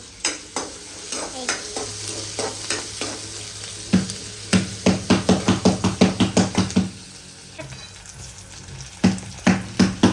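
Onion frying in a pan, a continuous sizzle punctuated by a long run of rhythmic scraping, stirring strokes of a spatula against the pan, close and fairly loud, with no talk.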